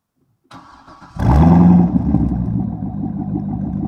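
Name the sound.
modified V8 car engine starting, no mufflers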